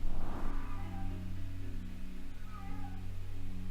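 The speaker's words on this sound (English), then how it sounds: "My cat is meowing." A cat meows several times at close range, the drawn-out cries standing over a steady low hum, with no one speaking.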